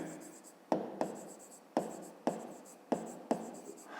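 Pen strokes on paper during a 5th-grade math lesson, several short scratchy taps in an irregular rhythm, close and fairly quiet, no voice over them.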